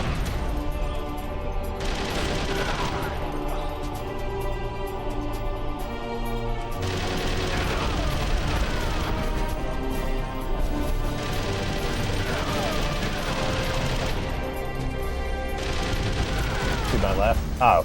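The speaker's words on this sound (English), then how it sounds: "It doesn't have to be since it's a machine gun." Machine gun fire in the video game Metal Gear Solid: Twin Snakes, dense bursts of rapid shots layered over game music and impacts, sustained and loud throughout.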